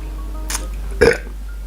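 A person burps after eating saucy beef ribs with Coke, two burps, a short faint one followed by a louder, deeper one, close up over a steady low hum.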